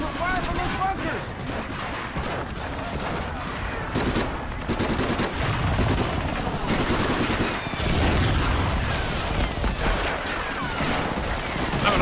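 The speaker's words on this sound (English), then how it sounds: "Watch for fire from those bunkers!" Machine guns and rifles rattle from bunkers in Medal of Honor: Frontline, dense bursts of gunfire and booms running steadily throughout, with voices talking beneath the shooting.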